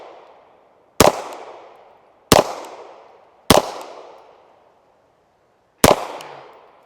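A suppressed DSArms SA58 FAL rifle fires four loud, sharp shots at a target, spaced a second or two apart, each followed by a short decaying echo outdoors.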